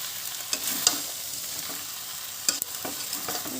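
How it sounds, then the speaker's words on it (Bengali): Potatoes are stirred into a country chicken curry in a pan, a close sizzling fry with scraping spatula strokes and a couple of sharp clinks against the pan. "কষানো হয়ে গেছে আলুটা মিশিয়ে নেব একটু মাংসের সঙ্গে"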